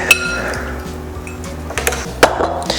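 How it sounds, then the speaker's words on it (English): Skinless chicken pieces set onto a metal air fryer rack, a few sharp metallic clinks and taps over a low steady background hum, close by. "I'm going to place that side up first onto my rack"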